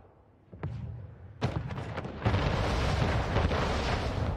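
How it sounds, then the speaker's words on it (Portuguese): Loud booming blasts of cannons exploding in the game Anno 1800, a couple of sharp bursts followed by a sustained roaring rumble of continuous explosions. "Vou detonar os canhãozinhos primeiro."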